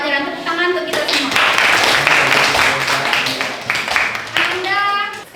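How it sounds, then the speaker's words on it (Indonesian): A school class of students, grade 10E9 in Indonesia, breaks into a dense burst of hand clapping for several seconds, loud and close, with voices just before and after. "Tepuk tangan untuk kita semua"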